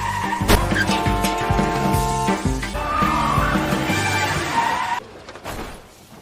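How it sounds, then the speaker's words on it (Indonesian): A car brakes suddenly and skids on the road during a chain collision, with a loud sustained screech of sliding tires that holds for several seconds before breaking off abruptly into quieter noise. "salah satu mobil ngerem mendadak karena menghindari tabrakan, akhirnya terjadilah tabrakan beruntun"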